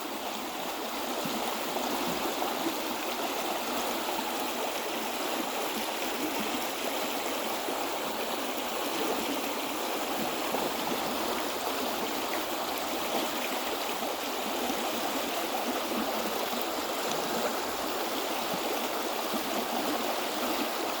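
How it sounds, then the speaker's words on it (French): A woodland stream flows steadily, its broadband rushing and trickling water filling the whole span at an even level with no voices or breaks. "Le son d'un ruisseau."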